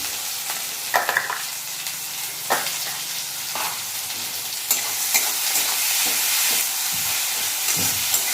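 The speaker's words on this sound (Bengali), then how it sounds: "টমেটোটা দেওয়ার পর একটু ভেজে নেবো 2 মিনিট" Tomatoes frying in a pan for a Bengali fish curry, a steady sizzle with occasional stirring scrapes and clatters, close and fairly loud throughout, with no talking.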